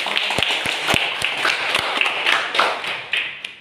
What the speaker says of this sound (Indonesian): Tepuk tangan dulu,